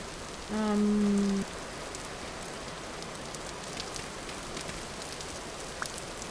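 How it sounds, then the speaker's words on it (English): Steady rain falls in the survival game Vintage Story, a constant soft hiss of drops filling the scene, with a brief tonal chime near the start and no speech. "It's always raining here,"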